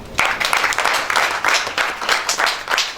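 A youth gathering's audience claps, the applause coming in short uneven bursts that swell and dip over a few seconds.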